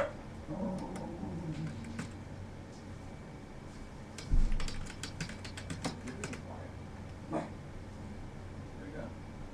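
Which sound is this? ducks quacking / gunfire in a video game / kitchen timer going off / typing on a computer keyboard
typing on a computer keyboard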